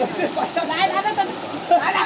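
A stream rushes steadily outdoors in the Konkan countryside, a broad, continuous splashing flow close by, with voices talking intermittently over the water.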